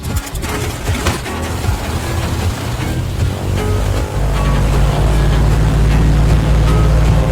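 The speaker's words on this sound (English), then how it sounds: "the engine roared to life at full speed" A hand-built plane engine sputters through rough uneven bursts, then catches and settles into a loud, steady, low roar at full speed.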